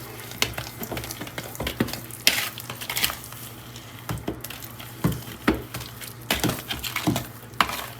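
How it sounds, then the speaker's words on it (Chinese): Epoxy grout being stirred and mixed by hand for tiling a shower floor, with irregular scraping and knocking strokes of the tool against the mixing container, fairly close and steady, no talking. "大概要混个10分钟的时间，一定要混合的非常均匀"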